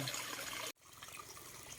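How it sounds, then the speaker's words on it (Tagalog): Floodwater rushing through a home garden, a steady loud broadband wash that cuts out abruptly partway and then resumes slightly softer. "ang lakas ng tubig"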